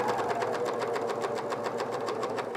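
A sewing machine top-stitching a pair of pants runs in one steady, fast needle hum with a rapid regular pulse throughout, close and fairly loud with no talk.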